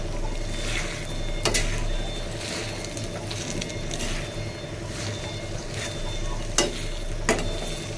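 Bay leaf and whole cumin fry in hot oil with a steady sizzle over a low hum, broken by a few sharp clatters of a utensil against the pan.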